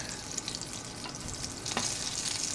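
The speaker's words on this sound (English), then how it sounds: "So now I'm frying the diced onion, so that it will give it nice texture" Diced onion fries in a pan with a soft, steady sizzle, occasional stirring scrapes and pops breaking through at a moderate, close distance, with no talking.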